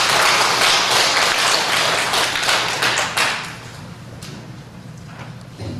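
A church congregation applauds in a dense burst of clapping that gradually thins and fades over a few seconds, ending with a few scattered claps.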